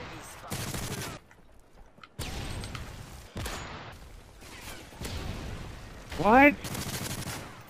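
Bursts of sniper rifle fire and other gunshots in a Call of Duty MW3 match, loud and sharp in separate volleys with brief quiet gaps, mixed with a player's shouted voice.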